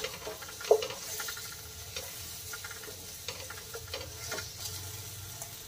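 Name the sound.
chili powder and spices roasting in oil for misal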